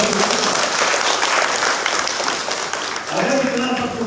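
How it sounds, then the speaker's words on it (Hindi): Women at a rally for Modi in Agartala, Tripura, burst into loud, dense clapping that carries on continuously, with a crowd murmur underneath and a slight dip before picking up again. "अरे जरा महिलाएं एक बार जोरदार मोदी जी के लिए तो ताली बजाते हैं।"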